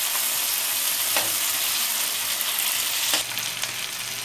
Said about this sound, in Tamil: தக்காளி பழத்தை நல்லா உடச்சி விடுங்க.